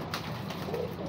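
A pigeon coos softly in a brief, low, throaty burble against steady background noise.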